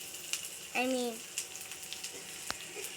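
Okra added to a hot pan, with a steady faint sizzle, a few clinks and a sharp tap, while a voice talks briefly.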